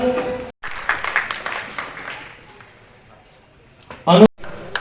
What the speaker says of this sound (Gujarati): તાળીઓથી આપણે ભાઈ ખૂબ વધાવીશું।